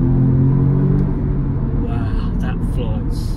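A 300 bhp Audi S3 quattro hot hatch accelerates hard, its engine rumble droning loud and close from inside the cabin, with a voice briefly heard over it toward the end.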